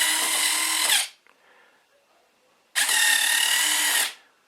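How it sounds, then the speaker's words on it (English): The retractable landing gear of an FMS 1100mm F6F Hellcat RC warbird cycles on a servo tester. Two loud, close bursts of whirring servo motor, each about a second long, are separated by a quiet gap with faint clicks. "we're going to just give them a little test run with a servo tester"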